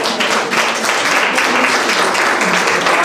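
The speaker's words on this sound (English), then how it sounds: "Can we give her one more round of applause?" A museum audience at a guest speaker series event gives a loud, steady round of dense applause that holds at full strength for the whole stretch, with no voices over it.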